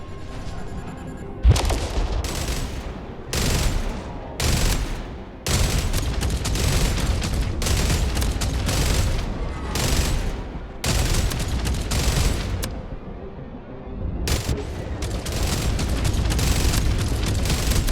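Loud, sustained bursts of gunfire in the video game Jump Ship, heavy rapid shots and booming blasts coming in repeated waves with brief gaps, close and dominant with no talk.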